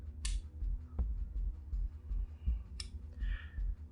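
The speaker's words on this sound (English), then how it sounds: "if I go from fire to safe, did you hear that click?" Two sharp, crisp clicks about two and a half seconds apart as the safety selector on a Brownells BRN-180S AR-15 pistol build with a folding lower receiver snaps between fire and safe. Faint handling noise and low background hum lie underneath.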